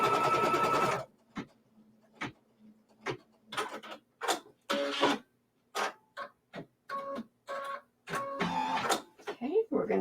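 A sewing machine stitches quilt block fabric in a short opening burst, followed by scattered clicks and handling taps while someone talks.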